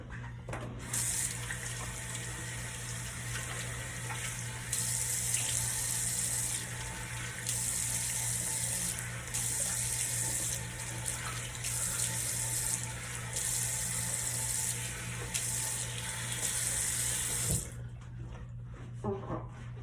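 Steady stream of water from a bathroom tap while face cleanser is rinsed off at a sink, continuous and close, with small splashy changes as hands move through it and a faint hum underneath.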